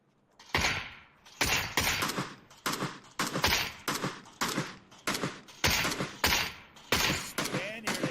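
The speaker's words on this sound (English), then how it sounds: "Spaniard, PK taking shots at Granty and McClawa." Gunfire in the battle royale game PUBG during a duos tournament: a steady series of about a dozen sharp, punchy shots at a regular rhythm, fairly loud, with some faint background noise between them.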